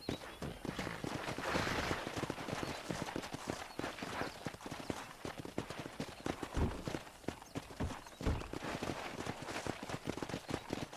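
Horse hooves clip-clopping at a brisk pace on hard ground in the video game Red Dead Redemption, rhythmic and fairly close, with faint background ambience and no talking.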